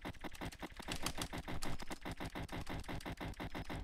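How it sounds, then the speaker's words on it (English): Rapid, steady tapping on a computer keyboard during a Greenville game session, dense clattering keystrokes continuing without pause, close and fairly loud. "If you can't hear my keyboard, I'm over here full on, like, tapping it."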